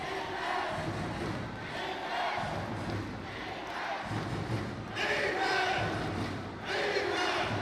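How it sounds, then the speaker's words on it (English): Basketball arena crowd in a 2014 ABL semi-final, Saigon Heat against Westports Malaysia Dragons, roaring and cheering steadily throughout, with louder surges near the end and a commentator talking over it. "So 7 straight points for Viet Arnold, getting the crowd back into the game."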